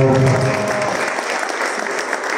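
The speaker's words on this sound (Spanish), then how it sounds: "Gilberto Gómez, para quien también pedimos un fuerte aplauso, por favor." An audience at a Freedom of Expression Day event breaks into loud, sustained clapping that fills the whole moment as a dense, even roar of hands.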